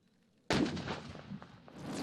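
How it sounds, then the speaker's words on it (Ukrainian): A tank fires a single heavy cannon shot during a military exercise, a sudden loud blast that booms and rumbles away into a long echoing tail across open ground. "По черзі під'їжджають і від'їжджають та здійснюють постріли."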